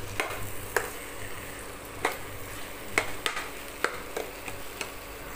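Egg being stirred into sautéed coconut and ridge gourd in a hot pan: a steady low sizzle with a scatter of sharp spatula scrapes and taps on the pan, close and moderately quiet, with no talking.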